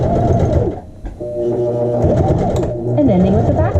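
Sewing machine stitching the hem of a child's shorts around the inseam and finishing with a back stitch, a steady close mechanical whir that runs almost without break, with a voice talking over it.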